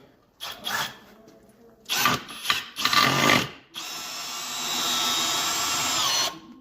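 A cordless 150 Nm drill driver drives a self-tapping screw into a wooden block in short, loud bursts, then one sustained high whine of about two and a half seconds, close by.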